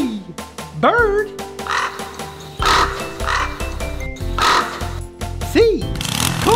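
Loud, harsh croaking caws repeat in uneven bursts, close up, over sliding cartoonish sound effects and music.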